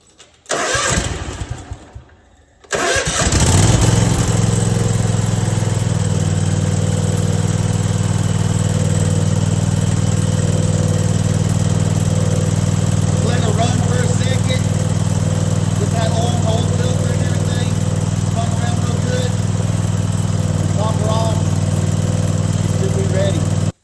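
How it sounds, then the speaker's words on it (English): A Cub Cadet ZT1 50-inch zero-turn mower engine cranks briefly, falls quiet, then catches and roars into a steady, loud idle that runs uninterrupted for about twenty seconds. "Let's crank her up."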